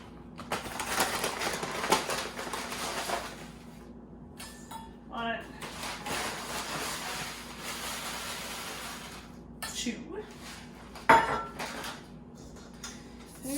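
An oat mixture being stirred in a bowl: irregular scraping, clinking and knocking of a utensil against the bowl, with quiet pauses and a sharp clink near the end, and some faint speech in the background.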